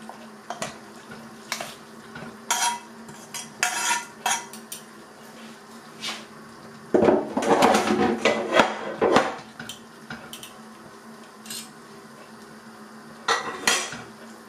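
Metal pot and utensil clatter as sausage with tomato purée goes into a pot of potato soup, with scattered clinks and scraping, then a louder burst of stirring and knocking in the middle and another near the end.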